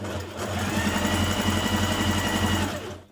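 A sewing machine stitches a seam on a Simplicity 8330 occasion-wear dress, a steady, close mechanical whir that runs for about two and a half seconds before stopping.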